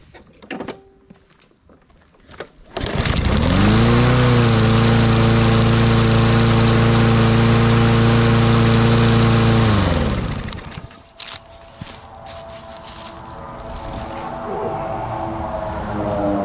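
A small gasoline engine, its carburetor just repaired, starts with a cough and runs loud and steady for about seven seconds before shutting down, leaving faint clattering and a low background hum.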